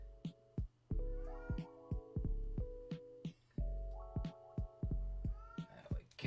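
Close, loud meowing from a vocal pet cat, a long run of quick repeated calls with a brief pause midway, steady and chattering, with no voices over it.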